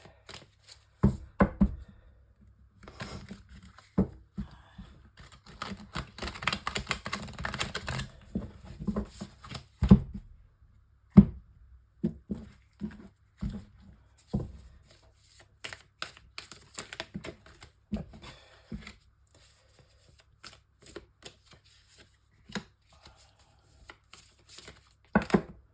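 Tarot cards are shuffled and laid down close up and fairly quietly, heard as a scatter of soft riffling bursts, slaps and taps with gaps between them, one denser flurry of shuffling in the early part.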